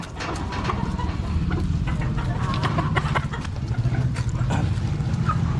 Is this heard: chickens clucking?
yes